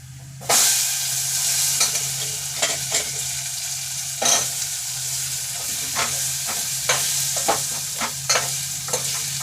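Red chili chutney and garlic sizzle steadily in hot oil while being stirred for a drumstick (shevga) sabzi, with a dense bright hiss throughout and repeated scraping stirs cutting through.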